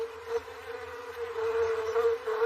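Honey bees buzz steadily at an opened hive in a British garden, a continuous close droning hum that swells slightly louder toward the end.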